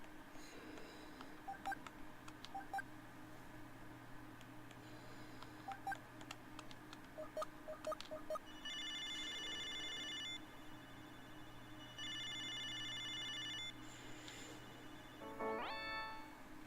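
Telephone in the Snatcher video game: a run of short dialing tones and beeps, then two long electronic ringing bursts with a gap between them, heard clearly over a low steady game hum.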